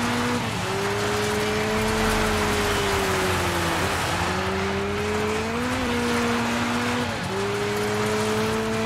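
A rally car in the Dirt 5 video game drives at high speed on an icy stage, its engine droning loudly and steadily with repeated dips and rises in pitch as it shifts and accelerates, under constant road noise.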